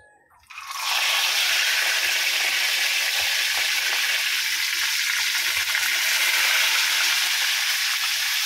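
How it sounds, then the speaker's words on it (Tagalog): Fish frying in a pan, with a loud, steady hiss and crackle of hot oil that starts after a short quiet moment and keeps going without a break. "Prito na sa isda guys."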